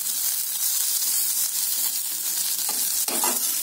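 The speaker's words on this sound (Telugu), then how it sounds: "వీటిని షాలో ఫ్రై చేసుకోవాలి ఫ్రెండ్స్ ఇలా గోల్డెన్ కలర్ రావాలి బాగా ఫ్రై అయ్యాక" Bitter gourd pieces shallow frying in oil in a pan, a continuous loud sizzle with brief stirring scrapes near the end, no voices.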